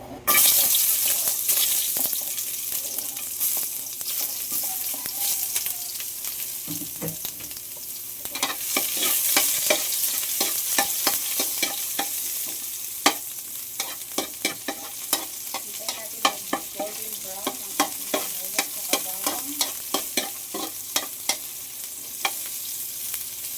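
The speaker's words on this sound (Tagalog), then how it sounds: "ilagay na natin ang ating bawang saka sibuyas." Garlic and onion frying in oil in a pan for an eggplant adobo, with a continuous bright sizzle and a run of sharp, regular scraping stirs that becomes busier in the second half, close and loud.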